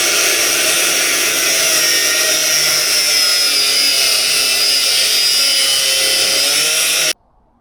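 A power tool cuts through car body metal during rear-end repair work, a steady, loud, high-pitched whine that runs continuously for about seven seconds, then stops abruptly.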